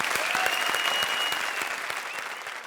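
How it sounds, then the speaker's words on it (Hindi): Studio audience applause on a Hindi comedy show, loud continuous clapping and crowd noise over music, a bright sustained musical tone running beneath the claps. "तो इन टीम्स के लिए जोरदार तालियां प्लीज।"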